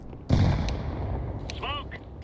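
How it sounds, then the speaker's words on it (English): A grenade detonates in a tactical shooter video game as a sudden sharp blast followed by a decaying rumble, with a brief tonal voice-like sound near the end. "Throwing grenade. Grenade out."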